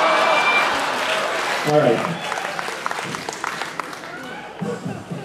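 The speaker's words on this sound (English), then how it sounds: "Thank you for the applause on that one." A live cruise-ship comedy audience applauds, a steady wash of clapping that fades into a few scattered claps and a brief spoken word near the end.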